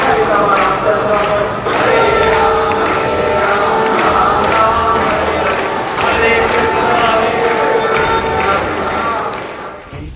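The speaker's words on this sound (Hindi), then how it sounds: "यहाँ पे कितना ज़्यादा भीड़ है।" A huge crowd at the Lalbaugcha Raja Ganpati Aagman in Mumbai fills the air with a loud, dense roar of voices and shouts, cut by a steady rhythmic pounding beat that fades slightly at the end.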